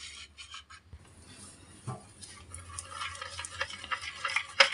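A spoon stirs shampoo into coffee in a cup, making faint, sparse clicks and light taps that grow quicker and busier toward the end, heard alone against a quiet background.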